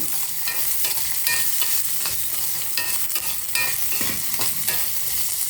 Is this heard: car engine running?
no